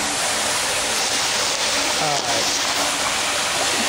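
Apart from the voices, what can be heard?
water leaking into a sewer manhole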